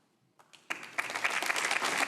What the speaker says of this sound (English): I thought they weren't supposed to cheer.